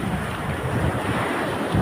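Sea waves washing onto the shore at Real, Quezon, heard as a steady broadband wash with wind buffeting the microphone, continuous and fairly loud for the whole stretch, with no talking.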